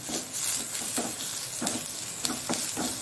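Boiled bimbuli sizzling and being stirred in a pan for chutney, a close steady fry with rhythmic scraping strokes recurring about every half second, moderately quiet with no talk.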